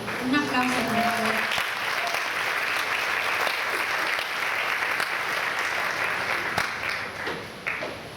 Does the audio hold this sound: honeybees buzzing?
no